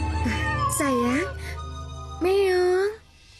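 A person's voice mimics a cat's meow twice, drawn-out and whiny, with a low steady hum underneath.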